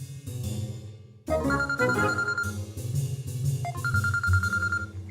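A phone rings with an incoming call over background music, a bright trilling tone repeating in quick pulses after a sudden musical swell, loud and close.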